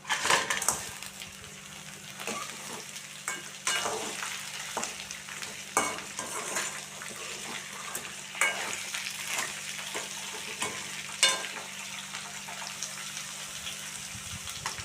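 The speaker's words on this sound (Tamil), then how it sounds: "இப்போ க்ளீன் பண்ணி வச்சுருக்க நண்டை சேர்த்துக்கலாம்." Cleaned crab being fried and stirred with sautéed onions in a pan for spicy crab fry, continuous sizzling with frequent clattering stirs and scrapes, close and moderately loud throughout.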